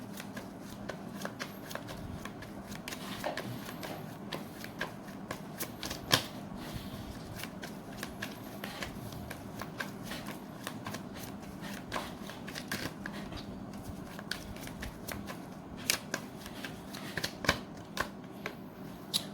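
Tarot cards are shuffled continuously up close, a steady papery riffling with frequent soft slaps and flicks throughout and no talking.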